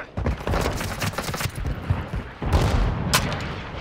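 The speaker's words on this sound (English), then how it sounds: "Hostile mortar strike in the area" Mortar strike explosions from Call of Duty Modern Warfare 2 in a free-for-all match: a dense barrage of booming blasts and rumbling impacts rolls on throughout, with a heavier cluster of hits near the end and no talk.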